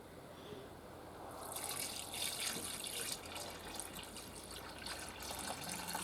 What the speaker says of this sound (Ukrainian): Вливаємо сюди сироватку.